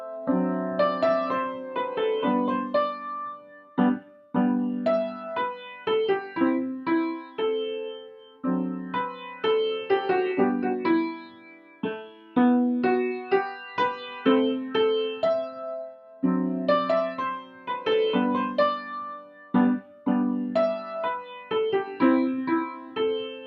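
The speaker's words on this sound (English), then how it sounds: "short video tutorial on the piece Polovtsian Dance by the composer Borodin" Solo piano plays Borodin's Polovtsian Dance, a lyrical melody over flowing chords. Phrases rise and fall with short pauses between them and run steadily for over twenty seconds.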